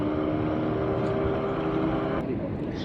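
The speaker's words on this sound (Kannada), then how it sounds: "ಇವಾಗ ಫಿಶಿಂಗ್ ಆಗಿ ಬರುವಂಥ ಬೋಟೆಲ್ಲ ಈಚೆ ಸೈಡ್ ಬರುವಂಥದ್ದು." A fishing boat motor at Malpe fish harbour hums with a steady, droning tone that holds throughout, close and fairly loud, with a light wash of wind in the background.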